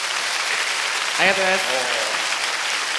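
A large crowd at a Code Geass anime birthday event claps steadily and loudly throughout, with a brief spoken thank-you from a voice on stage cutting in over the dense applause.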